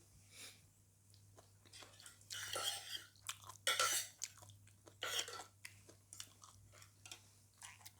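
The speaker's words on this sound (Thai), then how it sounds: "ลองซื้อมากินดูกินแบบดิบ ก็อร่อยเนาะ กรอบ หวานครับพี่น้อง" Raw, crisp onion flower stalks are chewed close up, with loud wet crunching bites coming in irregular bursts between quieter pauses, over a faint low hum.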